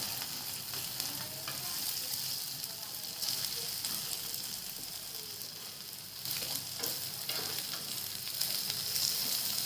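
Slices of bottle gourd fry in shallow oil on a low flame, giving a steady, even sizzle that carries through the whole stretch at moderate level with no talking over it.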